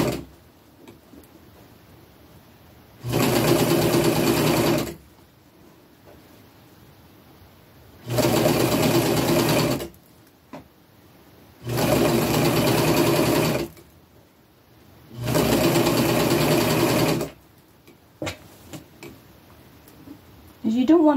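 A sewing machine stitching an upcycled men's shirt runs in four separate bursts of steady whirring, each a couple of seconds long, with quiet handling sounds and light talk in the pauses.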